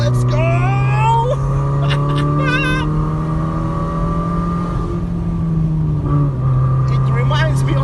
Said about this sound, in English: And you press off, and then you hear the exhaust.